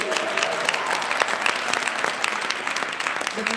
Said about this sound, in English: let's have a round of applause once again for all the awardees